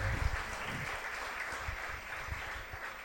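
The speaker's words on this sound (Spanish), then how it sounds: "Le damos un aplauso al Señor." Church congregation at a Sunday service claps together in sustained applause, fairly faint and roomy, the sound spreading evenly through the space with no speech on top.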